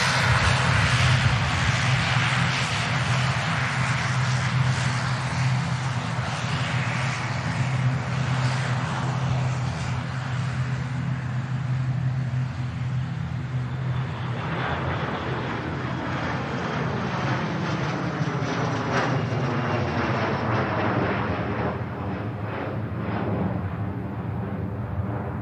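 A Loganair aircraft takes off at Manchester Airport, its engines roaring loud and steady throughout before the sound slowly shifts and recedes as it climbs away.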